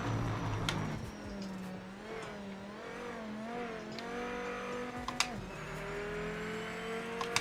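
Race car engine in the video game Project Motor Racing revving steadily at high RPM, a continuous whining drone that rises and dips, with faint tire noise and a few sharp clicks.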